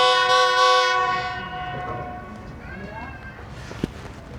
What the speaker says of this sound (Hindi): जैसे ही आके रुकी है ट्रेन वैसे ही 28 डाउन शालीमार एक्सप्रेस